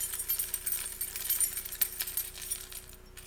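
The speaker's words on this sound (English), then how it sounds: "So I'm going to make a long sound with my keys." A bunch of household keys jingles and rattles for a long, continuous stretch. The metallic chinks are light and close, with small peaks along the way, and the sound tapers off at the end.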